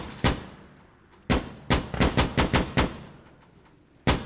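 Gunfire in Insurgency Sandstorm, loud, close, sharp shots, with single cracks at the start and end and a rapid burst of about seven shots in the middle, separated by quiet gaps.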